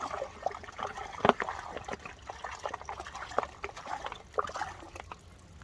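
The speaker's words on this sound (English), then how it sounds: "So there they go, they're filtering away nicely." Water trickling through Millbank-type filtration bags, sediment-laden water dribbling and splashing irregularly close by, with occasional louder drips and small gushes over a soft continuous flow.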